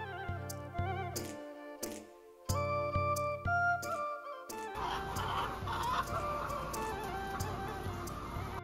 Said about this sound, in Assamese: এয়া কন্যকা লেয়াৰ মুৰ্গীৰ ফাৰ্ম